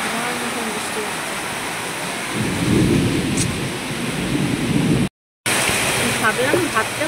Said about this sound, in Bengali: মেঘটা ডাকছে ডাকো